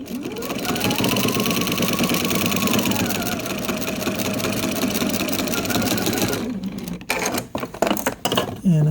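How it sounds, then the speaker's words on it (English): Sewing machine stitching a scrap quilt border, running in a fast continuous whir up close for most of the stretch, then stopping and giving way to brief clicks and handling noises near the end. "when I get to the other end, I just sew all the way right off the edge."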